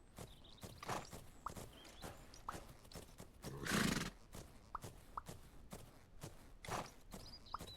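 Horse neighing and hoofsteps from a horse-riding video game during a canter circle: a steady clip-clop rhythm with one loud, drawn-out whinny in the middle, and no talking.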